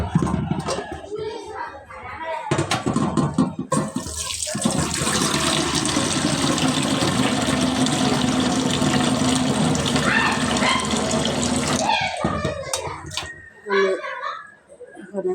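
Water gushes steadily from a kitchen tap for several seconds at close range while cooking vegetables, with a voice speaking before and after the flow and clattering sounds around it.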